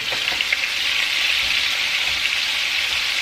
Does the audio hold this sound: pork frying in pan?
yes